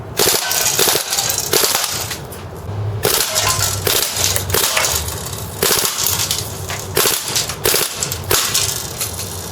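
An airsoft PDW fires BBs at its full rate of fire, a loud, fast stream of sharp mechanical cracks with short breaks in the bursts, close to the listener.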